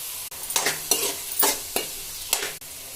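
Carrots and beans sautéing in a pan for rava khichdi with curry leaves, ginger-garlic paste, onion and tomato, a steady sizzle broken by several scraping stirs of the spoon, close and moderately loud, with no talking.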